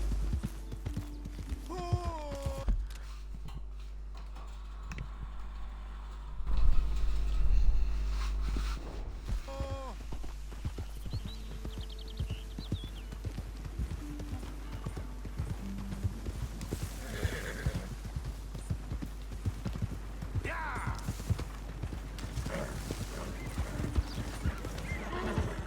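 A horse in the video game Red Dead Redemption 2 clip-clops along in a quick, steady hoofbeat rhythm, with a whinny near the start and a louder burst midway, close and persistent over low game ambience.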